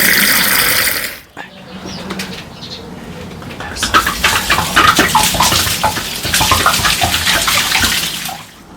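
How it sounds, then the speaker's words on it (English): Water sloshes and swirls inside a clay amphora, splashing unevenly after a loud rushing pour, with faint cooing in the background. "all I need to do is just swill it out with water to clean the inside"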